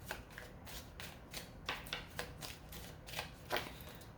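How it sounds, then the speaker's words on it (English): Tarot cards riffle-shuffled by hand in a short burst of crisp, repeated flutters and taps, close and fairly quiet with no talking. "2 more shuffles here."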